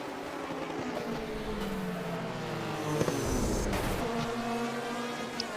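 Racing cars at Hockenheim in a 1983 DRM race, engines droning and shifting as they brake and overtake, a continuous layered roar at moderate distance.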